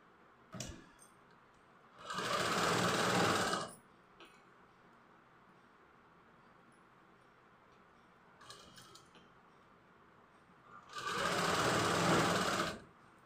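A sewing machine runs in two steady bursts of stitching an outline seam, each lasting about a second and a half, with quiet handling between them and no talk over the motor.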